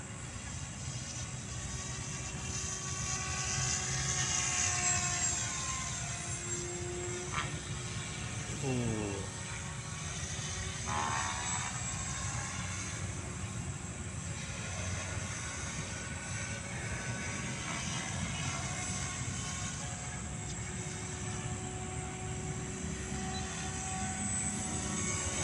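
An SAB helicopter over the UP Field gives a broad, steady engine and rotor roar lasting the whole stretch, swelling slightly early on, with people talking nearby underneath.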